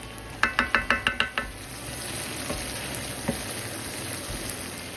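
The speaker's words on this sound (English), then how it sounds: "Then stir in a heaping tablespoon of tomato paste" A spoon stirs tomato paste into a pot of short ribs, opening with a quick run of about seven sharp clinks against the pot before easing into a soft, steady sizzle with occasional faint taps.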